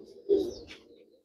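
A single Teddy pigeon gives one short, close, throaty coo that swells and then fades away, with nothing else heard.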